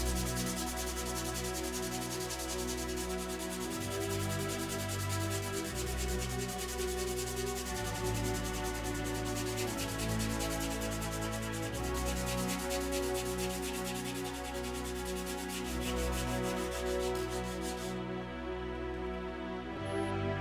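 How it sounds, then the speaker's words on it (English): A wooden lure master being hand-sanded flat, a continuous close rasping rub that keeps going steadily throughout without any break. "just use some good old elbow grease and sand the surfaces flat"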